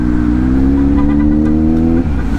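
A heavy big-bike motorcycle engine hums steadily and loud while riding, its drone holding an even pitch before dropping slightly near the end, with no talking.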